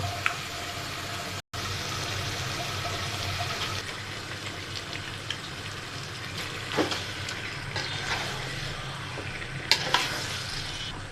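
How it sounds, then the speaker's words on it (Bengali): Beef bhuna frying and being stirred in a pan with spices and a little water, a steady close sizzle with occasional scraping stirs, no talking. "এখন মাংস কষানো হলো"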